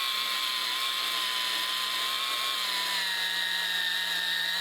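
A cordless screwdriver strains to drive a 2.5-inch screw into a 2x4, giving a steady high motor whine that holds loud and continuous throughout, with pitch sagging slightly partway through under load.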